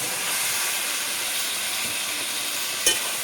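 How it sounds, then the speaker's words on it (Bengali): Boiled papaya and potato go into a pan of frying tomatoes, giving a steady close hiss and sizzle throughout, with one brief sharp clatter near the end. "এখন আমি সেই সিদ্ধ করে রাখা পেঁপে আর আলু এগুলো দিয়ে দেবো।"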